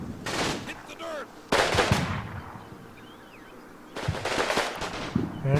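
Artillery and gunfire in the video game Combat Mission: Fortress Italy, loud rattling bursts of automatic fire and crashing blasts separated by brief quieter gaps, with faint voices in the background.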